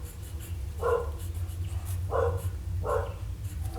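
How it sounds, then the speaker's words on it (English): A dog barks three times in separate short woofs at a moderate distance, spaced about a second apart over a low steady background hum. "dogs barking and all kinds of distractions"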